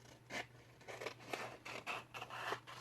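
Scissors snip through worn, yellowed paper in a quiet room, several short, close, scraping cuts repeating at an irregular pace with no talk.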